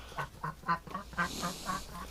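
A duck near a swamp quacks in a steady series of about eight rasping calls, close and moderately loud, with no talking.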